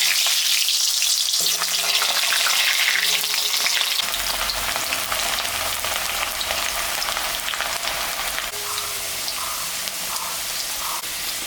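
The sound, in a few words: potatoes frying in hot oil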